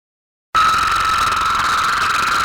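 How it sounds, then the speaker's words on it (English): Cusk eel underwater call: a loud, steady buzzing drone that starts abruptly after a half-second of silence and holds continuously to the end, with strong even tonal bands and no talk. "Cusk eels make noises? Jackhammer?"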